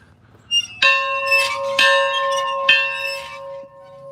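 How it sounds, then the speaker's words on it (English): A bell rings three times in slow succession, each strike loud and close with a long ringing tone that fades after the last stroke. "Ringing that bell for you too, Opie, right here, buddy."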